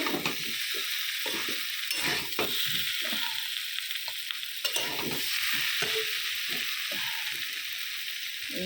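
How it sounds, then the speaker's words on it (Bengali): Cumin and dried chili tempering sizzling in hot oil while being stir-fried, a soft continuous crackle under repeated scraping and clattering strokes of a spatula against the pan, heard close and fairly quiet. "জিরে আর লঙ্কা ফোড়ন দিয়েছি।"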